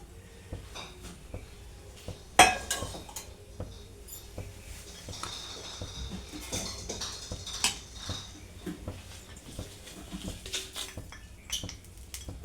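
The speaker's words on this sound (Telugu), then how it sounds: "ఇప్పుడు పప్పు కోసం తాలింపు వేసుకోవడానికి కళాయి వేసుకొని ఆయిల్ వేసుకుంటున్నాను" A wok is set on a stovetop and oil poured in for a lentil tempering, heard as close metallic clanks, a sharp clatter of cookware and scattered clinks of utensils in a quiet home kitchen.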